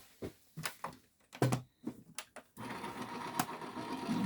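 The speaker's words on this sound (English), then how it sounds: "And I'm going to run this through my die cutting machine." A die cutting machine runs a greeting card through its rollers for a matchbox-style card box, giving a steady mechanical whir for about two seconds after a few sharp clicks and handling knocks, close and fairly quiet.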